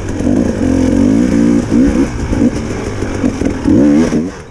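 A hard enduro dirt bike engine revs hard while pushing through muddy bogs, its loud, close motor rising and falling in repeated throttle bursts with strained, bouncing pitch changes.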